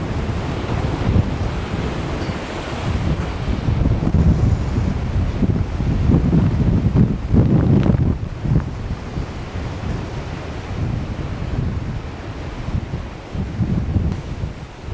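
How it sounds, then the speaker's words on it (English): Strong wind ripping across an outdoor horse pen, a loud continuous roar and buffeting against the microphone, surging and easing throughout with no voices. "the wind is just ripping today"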